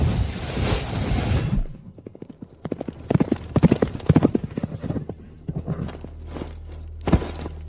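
Several horses clip-clop on hard ground, a brisk uneven run of hoof strikes close by after a short burst of broadband noise, with an occasional snort.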